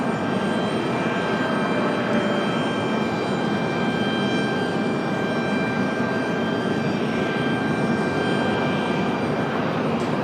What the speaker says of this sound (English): So here comes Alaska down the hill to make their way back to Seattle